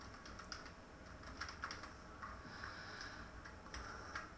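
Quiet, irregular clicks of a computer keyboard as a short title is typed into a spreadsheet cell, with light taps in small bursts against a low room hum.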